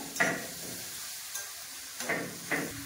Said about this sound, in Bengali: তো কপি দিয়ে দিলে খুব ভালো করে সবগুলো কষে নেবো।